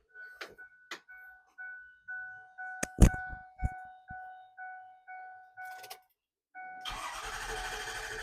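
Ford 6.4 Powerstroke diesel engine after replacement, with a run of rhythmic clicks and chimes at the start before the engine cranks and catches, settling into a steady close-up idle with no talk.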